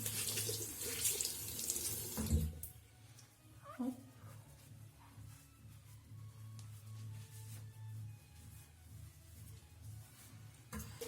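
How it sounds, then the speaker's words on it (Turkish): A bathroom sink tap runs while someone washes their face, a steady close rush of water with a burst of splashing early on before it settles into a softer, continuous flow. "yıkayacağım tekrar yüzümü"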